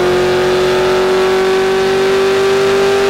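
A supercharged 2008 Mustang GT engine roars on a dyno at a loud, sustained high pitch, its tone climbing slowly as it revs hard without letting up.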